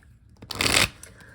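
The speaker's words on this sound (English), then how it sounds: "I'll shuffle this in because I'll probably forget" A deck of tarot cards is shuffled by hand in one quick riffle, a short crisp burst of flapping card edges close to the microphone, with quiet room tone before and after.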